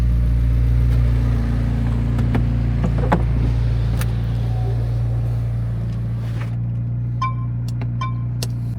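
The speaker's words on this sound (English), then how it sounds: "I'm going to go ahead and put the roof back up on this beauty" The roof of a McLaren 720S Spider convertible closes at sunset while the engine idles. A steady, heavy low rumble runs throughout, with faint mechanical clicks and whirs near the end.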